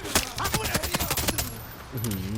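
Gunfire in the video game Far Cry 6, a dense burst of rapid shots through the first second and a half, mixed with game voices and tones, then a quieter stretch closing with a tonal sweep.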